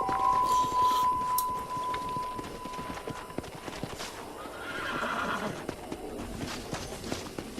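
A horse in the video game Red Dead Redemption whinnies loudly and close at the start, followed by a steady rhythmic clip-clop of hooves continuing throughout with no voices over it.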